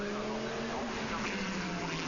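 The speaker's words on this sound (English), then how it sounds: "Fastest car in qualifying, the number 11 Belmondo Viper of Didier de Forny" A Belmondo Viper GT race car drives on the track at Zolder during FIA GT 2001 Super Pole, its engine a steady droning roar at moderate distance with faint tyre noise and a commentator's voice in the background.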